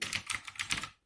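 Rapid, faint clicking of fingers typing on a computer keyboard, a steady patter of keystrokes for about a second that then stops.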